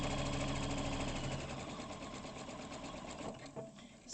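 A home sewing machine runs a quarter-inch seam through fabric for a gift bag, a fast, even mechanical whir that slows slightly toward the end, with a couple of small clicks as it stops.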